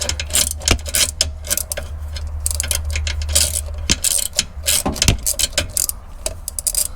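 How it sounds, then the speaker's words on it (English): A manual ratchet works loose a nut on a Toyota 2GR-FE engine, giving rapid close clicking in bursts with sharp metallic knocks scattered throughout. "Let's undo it the old-fashioned way with the manual ratchet."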